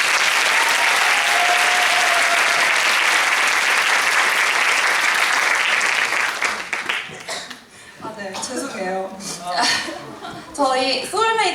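A theater audience applauds loudly and densely at the curtain call of a Korea University student musical club's regular performance; the clapping fades after about seven seconds as talking voices take over.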